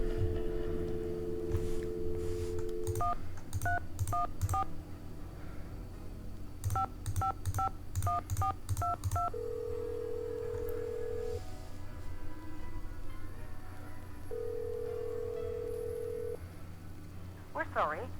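A telephone number is keyed in within a video game: two quick runs of touch-tone dialing beeps, then two long, even tones separated by a pause, all over a low background hum.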